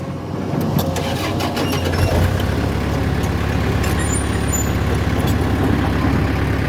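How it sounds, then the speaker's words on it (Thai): A farm tractor engine rumbles loudly and continuously while driving, its low chugging steady throughout, with some faint clanks and higher squeaks over the top. "ขออนุญาตขับรถไถแป๊บนึงเด้อ"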